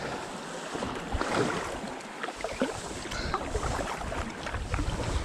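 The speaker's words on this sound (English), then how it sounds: "those reverse waves are creating quite a little bit of chop slap" Choppy reflected waves on the North Sea off Filey slap against a Spinera SK10 SupKayak, making a constant wet splashing and sloshing with irregular louder slaps and a breezy rush, close to the microphone and without talk.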